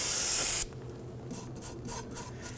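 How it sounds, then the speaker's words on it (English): A loud burst of aerosol solvent spray hisses for about half a second onto a rear drum brake backing plate of a Ford Focus, then quieter bristle-brush scrubbing follows in short strokes. "Using some spray solvent and a bristle brush"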